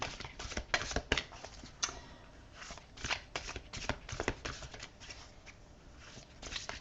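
Tarot cards are shuffled close by, with repeated crisp riffles and soft papery slaps coming in uneven bursts; the cards are heard on their own with no talk.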